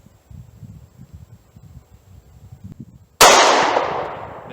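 One loud, sharp shot from a Taurus G2C pistol fired at a metal target about 45 yards away, a sudden crack with a long decaying tail after quiet rustling.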